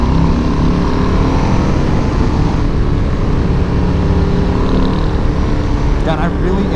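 A loud, steady cruiser motorcycle engine drones nonstop while riding, heavy wind rush blending with the rumble the whole way through.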